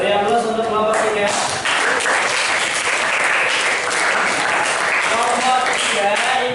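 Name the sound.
applause for a student group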